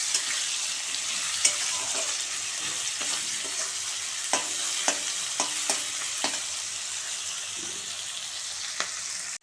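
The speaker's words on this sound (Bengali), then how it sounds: "পেঁয়াজটা একটু লাল লাল করে আমি ভেজে নেব আগে।" Chopped onions fry in a hot pan for a village-style meal, browning to a reddish colour. A steady, close sizzle runs throughout, with sharp stirring clicks and scrapes at irregular intervals.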